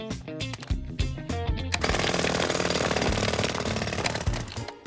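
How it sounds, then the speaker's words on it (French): Cartoon jackhammer pounding up a road surface, a loud dense rattling burst that runs continuously for several seconds after a short musical lead-in. "Tu te souviens comment faire marcher le marteau-piqueur?"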